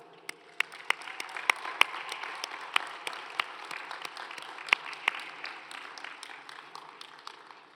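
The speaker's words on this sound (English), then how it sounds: "Would the graduates please give a round of applause for their faculty?" Graduates at a May university commencement applaud their faculty, a soft, distant spread of clapping across a large ceremony space, with scattered sharper individual claps standing out.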